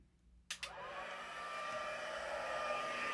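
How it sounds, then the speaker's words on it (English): Heat embossing tool for card making warming up: after a short click it settles into a steady, fairly quiet blowing whir that holds on to the end, with no talk. "And we're going to come in with our heat embosser."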